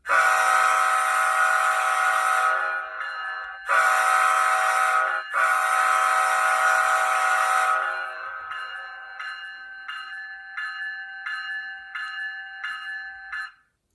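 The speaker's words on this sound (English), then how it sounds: "And we have our horn on F2." Loud close-range horn on an HO scale ScaleTrains ES44AH model in CSX livery, sounding three long blasts, followed by a steady automatic grade-crossing bell ringing rapidly until it cuts off.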